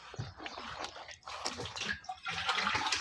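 Water being poured out of a container in a village home: a steady splashing, trickling flow with faint background clatter and a few murmured sounds.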